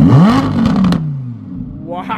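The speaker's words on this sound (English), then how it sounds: "I forgot how loud this car is" An Audi R8 with its exhaust valves open in performance mode, loud and close, revving up and then falling away, with a brief voice afterward.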